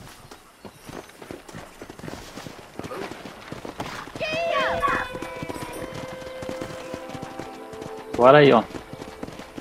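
Horse hooves clip-clopping at a gallop in the Red Dead Redemption video game, a quick steady rhythm with a whinny partway through and a louder neigh near the end, under someone speaking Portuguese.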